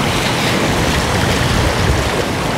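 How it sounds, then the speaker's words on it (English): Ocean waves wash in on a beach at low tide as a steady, loud, broadband rush, continuous and without pauses, and no voices are heard. "Waves coming in too."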